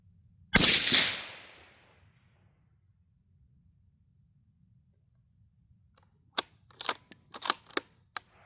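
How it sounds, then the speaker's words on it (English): A single loud, sharp rifle shot while sighting in a scope at 100 yards, with a quick decaying crack outdoors, followed by faint silence and then several light clicks of handling. "So I'm going to shoot one more time."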